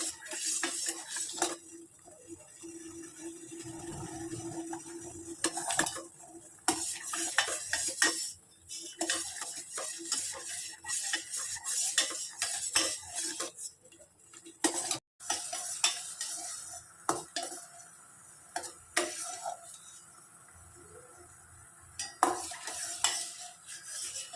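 Syrup mixture for pori urundai puffed rice balls boiling in a pan while a spoon stirs and scrapes, with repeated close clinks and scraping strokes over a low bubbling background.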